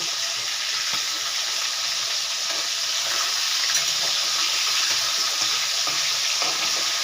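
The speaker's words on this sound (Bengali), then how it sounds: "এক পিঠ করে ভাজা হয়ে গেছে, এবারে আমি উল্টিয়ে দেব।" Pieces of ribbonfish fry in hot oil in a pan, turned over partway through cooking. A steady, dense sizzle holds close and even from start to finish, with occasional light crackles.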